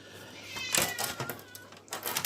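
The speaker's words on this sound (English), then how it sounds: "my cat's moaning" A cat meows close by in a short, drawn-out whining call against a room backdrop of faint rustling.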